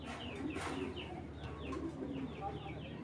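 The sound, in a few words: jack pigeons cooing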